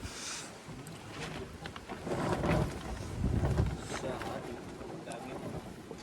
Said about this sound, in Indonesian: Anginnya gede udah 3 hari nih